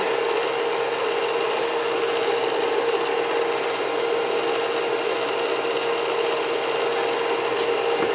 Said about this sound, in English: Actually, I think it's an egg whisk is what this is.